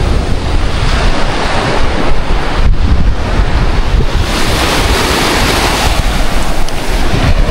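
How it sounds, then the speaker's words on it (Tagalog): Strong ocean waves roll onto a beach at Lian, Batangas, a loud continuous roar of surf mixed with heavy wind buffeting the microphone, steady throughout and with no voices. "Ang lakas ng alon ngayong araw na to."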